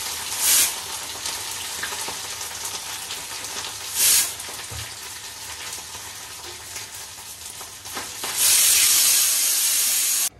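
Small mowa fish fry in hot oil in a pan, giving a steady close sizzle with a few louder bursts of hiss as they spit, the loudest surge coming near the end.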